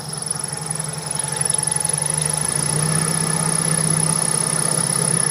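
Toyota Corolla Twincam carburetor engine idling roughly with a faint uneven stumble, a steady close, loud mechanical hum and thin high whine that swells slightly after the first second, no talk.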